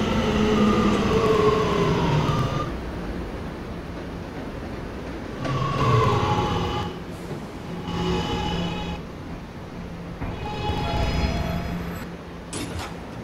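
An R211A subway train on the R local line in a Roblox game rumbles steadily along the track, with repeated swells of wheel noise and squeal rising and falling over several seconds.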